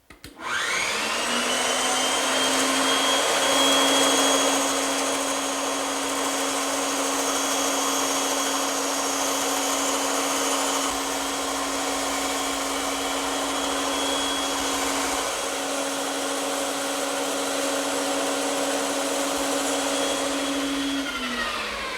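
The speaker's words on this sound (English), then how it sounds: "this is where the bandsaw really comes in handy" A bandsaw runs loud and steady cutting wood freehand, its motor whining with a constant hum for the whole stretch, with no talking.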